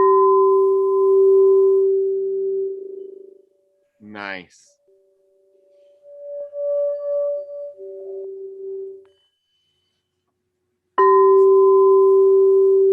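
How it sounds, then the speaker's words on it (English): A 432 hertz G singing bowl gives a steady, sustained pure tone with a ringing overtone, sounding in two long stretches with a gap between them and a brief rising chirp and quieter tones in the middle. "Yeah, this here thing that I got is 432 hertz too. And it does sound just like that, doesn't it?"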